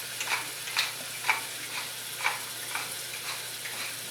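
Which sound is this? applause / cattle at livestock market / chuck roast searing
chuck roast searing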